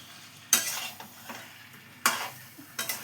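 Kasundi chicken curry with raw mango is stirred in a pan. Three or four distinct scraping strokes rise over a low, steady sizzle, spaced about a second apart, all close by.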